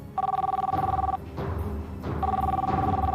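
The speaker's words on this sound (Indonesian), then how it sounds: "Telepon tuh, Pak, angkat." An old-style telephone bell rings indoors in two long electronic trills separated by a short pause, loud and close, with faint background noise between rings.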